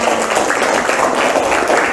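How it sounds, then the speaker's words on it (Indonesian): A classroom of students applauds a presenting group during a chemistry lesson, steady dense clapping filling the room for the whole stretch. "Kita berikan tepuk tangan dulu biar semangat"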